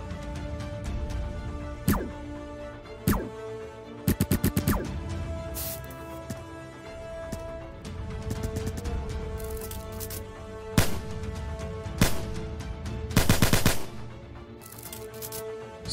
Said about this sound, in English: I'll play the sounds for each gun now for you guys.